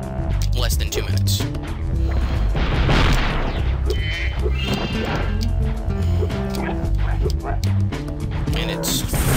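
Turrets being blown apart in the Spyro: Year of the Dragon video game, a dense stream of booming crashes and smashes over a steady backing music track, loud and continuous throughout.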